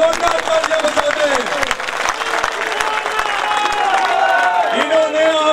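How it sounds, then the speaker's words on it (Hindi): Loud crowd applause at a farmers' protest sit-in, many hands clapping close by while a voice carries over a loudspeaker and scattered cheers rise in the background. "एक बार सारे भाई इनके लिए जोरदार तालियां बजाते"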